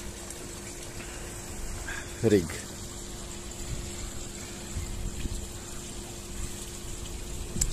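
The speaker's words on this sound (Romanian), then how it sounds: "Ia uitați acolo cum arată cascada mea" A small garden waterfall trickles into a fish pond iced over during a cold Black Sea storm, a soft continuous wash beneath a voice, with a brief splash or clatter near the middle.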